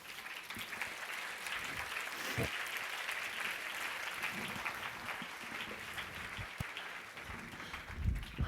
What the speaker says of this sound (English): whether you're clapping because that was really moving